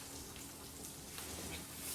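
Onions frying over fairly high heat in a pan, a soft, steady sizzle with faint crackles throughout, quiet and close, with no voices.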